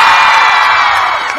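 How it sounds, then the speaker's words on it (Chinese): A huge New Year's Eve countdown concert crowd in Taichung roars, cheers and screams, a loud sustained wall of voices and whoops that tapers slightly near the end. "可以让我听一下最大的一场的掌声吗？"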